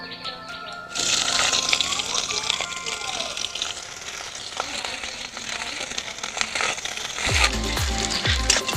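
A sudden burst of hissing sizzle as onions go into hot oil, continuing steadily, with some scraping stirring strokes near the end.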